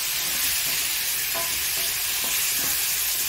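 Raw and ripe tomatoes dropped into browned onions frying in a pan, a dense continuous sizzle with a few soft stirring scrapes, close and alone.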